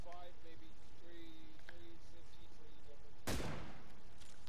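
A single sharp sniper rifle shot cracks out in PUBG, loud and sudden after a quiet stretch of faint ambient game sound.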